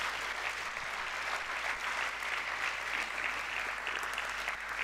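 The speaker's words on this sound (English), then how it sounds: "Please join me in thanking them with a round of applause." An audience at the EVOKE 2013 event gives a round of applause for the speakers, a continuous, fairly faint and distant patter of many hands that holds even for several seconds.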